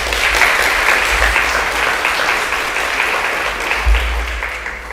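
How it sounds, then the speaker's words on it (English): A sustained round of applause fills the room at a Class of 2026 senior awards ceremony, steady and full from start to finish. "I'd like to give a quick round of applause to Maya Johnson"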